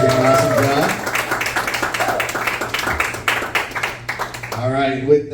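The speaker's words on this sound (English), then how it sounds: "Let's give another round of applause for our performers here." Sustained audience clapping for improv performers at a comedy night at Westbrook On Tap, a steady dense patter of many hands fading toward the end, with a voice talking over the start and finish.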